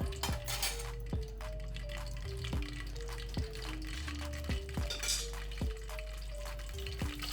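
Whole spices, bay leaf, cardamom, cinnamon, mace, pepper and cloves, sizzle in ghee as a tempering for fresh matar pulav, a steady crackle under repeated ringing metal spoon taps and scrapes on the pot.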